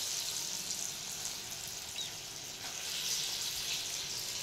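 Chana dal bhajis fry in hot oil with a soft, steady sizzle and faint crackle, fairly quiet and continuous throughout.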